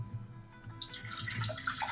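Warm water for a chili sauce pours into a container, a soft splashing gush that starts partway through and continues steadily, fairly close, with no talk over it.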